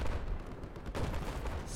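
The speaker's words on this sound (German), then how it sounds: "Hört auf mich zu schießen." Battlefield 4 multiplayer gunfire crackles through a chaotic battle, a steady wash of distant shots and rumbling blasts with a louder burst near the one-second mark.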